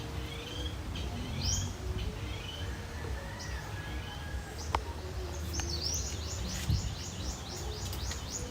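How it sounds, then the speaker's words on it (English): A bird on a Philippine island gives repeated squeaky, rising chirping calls among softer background birdsong, with a low steady hum beneath and a couple of brief clicks. "Actually, I realized that is the bird that I hear sometimes at night, in the middle of the night."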